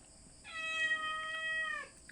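A small cat gives one drawn-out, slightly strained meow lasting about a second and a half, heard fairly faint and alone against quiet room tone.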